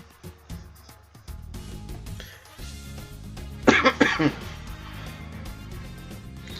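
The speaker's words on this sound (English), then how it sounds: "a coughing fit" A burst of harsh coughing breaks out in the middle, several rough coughs in quick succession, with talking and background music before and after.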